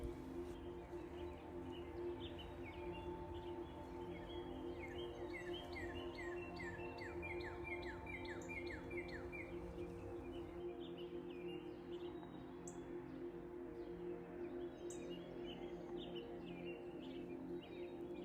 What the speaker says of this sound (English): really pay attention to the birds chirping, the sounds of the breeze